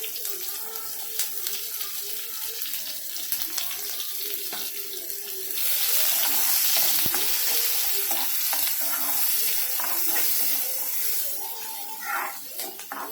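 Sizzling and crackling of onions and curry leaves frying in a pan, with a gentle stirring scrape, then a louder hissing surge midway, close by.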